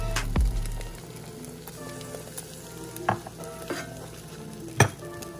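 Egg paratha frying in a pan gives a soft, steady sizzle, broken by a few sharp taps and scrapes of a spatula against the pan, one loud knock near the start.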